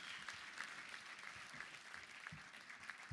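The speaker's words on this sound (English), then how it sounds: "Let's give a big round of applause" An audience claps steadily through a live show segment, a dense, even wash of applause at moderate distance with no speech over it.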